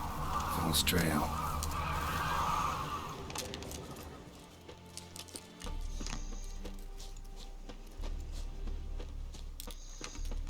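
Cawing ravens in The Witcher 3 wilderness, a burst of raucous calls early on, then sparser cries over rustling ambience and low rumbling background.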